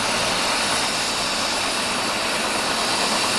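An aircraft engine runs before takeoff, a loud, even roar with a hissing, whining top that holds steady and close throughout, with no voices heard over it.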